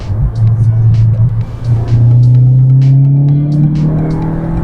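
A Volkswagen with a DSG automatic gearbox accelerates in drive, the engine note rising steadily and loudly up through the revs inside the cabin, with someone talking over it.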